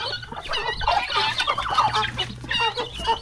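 Several chickens cluck and squawk in a busy, overlapping burst, close by and fairly loud, with no one talking.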